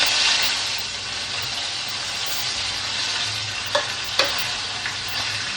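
Curry leaves sizzle in hot oil with mustard seeds and white urad dal, a loud, even frying hiss with a couple of brief pops and crackles partway through.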